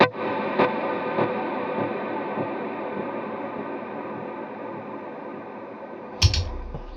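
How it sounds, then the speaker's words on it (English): Electric guitar swells drenched in a long delay trail, soft repeating echoes stacking into a sustained wash that fades, with a sharp noisy burst near the end. "it sounds like the trail is fairly long, and then the delay isn't too loud, but with a fair bit of repeat"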